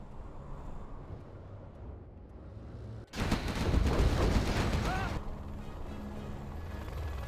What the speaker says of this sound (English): Carpet bomb now moving into the base.